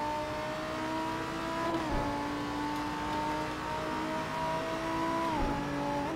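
A Lamborghini Huracán GT3 race car in Assetto Corsa at Silverstone accelerates hard with a steady loud engine drone. Its pitch climbs, dips briefly at two gear changes, then climbs again, with no voices.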